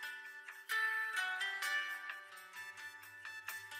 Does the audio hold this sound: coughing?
no